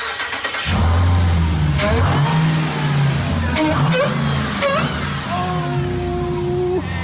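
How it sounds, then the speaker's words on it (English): A 2018 Jeep Trackhawk engine roars up and revs loudly several times, rising and falling in pitch, close and powerful, with some brief background chatter. "it is ready to be fired up, and I guess do some throttle twisties"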